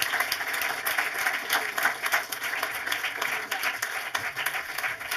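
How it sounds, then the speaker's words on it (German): Audience at a film museum event in Frankfurt applauds a guest actress, a sustained, dense, even patter of clapping filling the room from start to finish. "Und ich bitte alle herzlich für Applaus für Herrn Herrmann."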